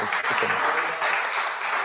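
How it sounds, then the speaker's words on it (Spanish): Audience applause for a presenter at a talk, a dense steady wash of many hands clapping close by, continuous for the whole stretch with no voices over it. "Vamos a darle un aplauso para que se anime."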